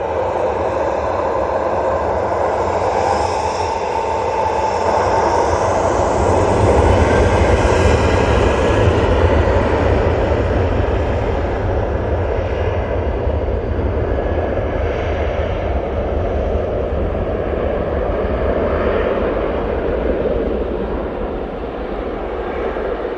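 An airliner lands on a short runway at Manchester Airport and applies reverse thrust, a loud, sustained roar and rumble that swells in the middle and then eases, with no talking.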